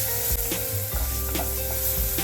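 Onion with dried and green chilies fries in oil for a vegetable sprouts upma, a loud, close, continuous sizzle broken by repeated scraping stirs of a spatula against the pan.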